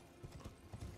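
Horse hooves clip-clopping in Elden Ring, a few faint soft hoofbeats in quick succession over a brief moment.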